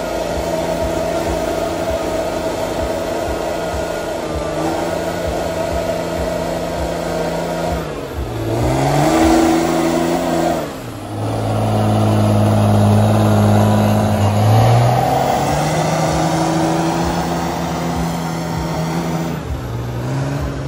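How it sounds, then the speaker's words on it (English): Monster truck engines roaring during a tug-of-war event: a loud, sustained engine drone that swells into rising and falling revs, then settles back into a steady roar, with no talking. "And then we're hearing loud music and engines."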